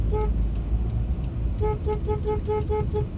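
A car horn beside a highway, left weak after a car wash, gives a quick run of short toots in the latter half over a constant rumble of passing traffic.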